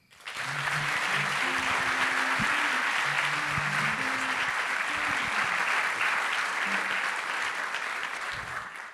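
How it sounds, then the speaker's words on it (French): A crowd gives warm, sustained applause for Olivier, dense clapping that holds steady for the whole stretch with faint murmurs and shouts underneath. "Merci de l'applaudir très fort"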